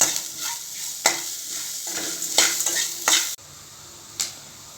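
Vegetables frying in a pan for a millet pepper rice dish, sizzling steadily while a spoon stirs and scrapes in several distinct strokes, then the sizzle drops to a quieter hiss near the end.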